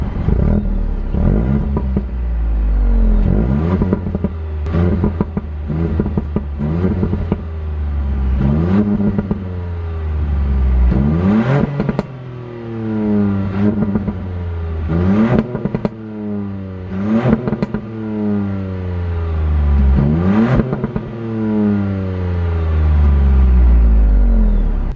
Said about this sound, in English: we'll get a few revving clips. I'll put the camera down and yeah, you'll get to hear the 3-cylinder in action